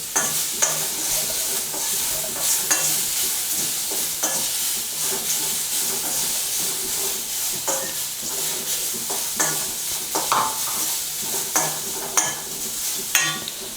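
Sliced mushrooms and onions fry in a pan, a continuous sizzle broken by repeated stirring scrapes and clinks from a spoon against the pan throughout.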